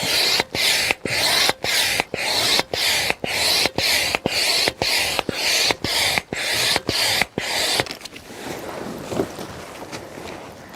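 Manual pump inflating a Kampa caravan awning, heard as about a dozen strong, regular whooshing strokes with short gaps between them. The pumping stops after roughly eight seconds, leaving quieter rustling and handling noise.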